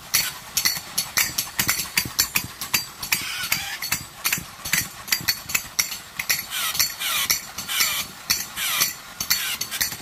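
Several wind-up tin toys spinning and whirring together on a shop surface, a busy close clatter of rapid metallic ticks and rattles running continuously without pause.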